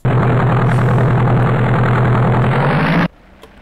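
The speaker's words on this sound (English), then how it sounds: "once you rev the engines up, it gets loud" A heavy aircraft engine runs loud and steady with a deep, rumbling drone for about three seconds, then cuts off abruptly into near silence.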